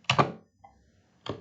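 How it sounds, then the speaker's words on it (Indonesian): A computer keyboard key is pressed once while typing in a word processor, giving a couple of sharp close clicks, a faint tap, then another click after a pause. "untuk mengaktifkannya itu kita tekan tab satu kali di keyboard"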